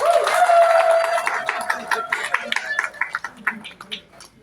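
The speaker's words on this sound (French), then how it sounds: "Applaudissez pour vous." An audience at a regional general assembly of musical artists applauds. The clapping begins under a speaking voice, then thins into scattered, individual claps that fade out.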